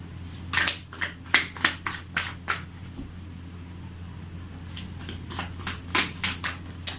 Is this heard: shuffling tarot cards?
yes